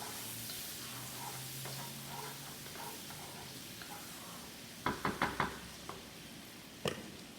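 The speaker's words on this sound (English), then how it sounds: "So in goes that garlic. Just stir that around again." Garlic sizzles quietly in a pan of green beans being cooked, with a low steady fry noise, then a burst of several sharp clinks and scrapes as a utensil stirs it around, followed by one more knock.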